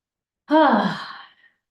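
A single deep, audible breathing out during an EFT tapping exercise, close and clear, lasting about a second against silence.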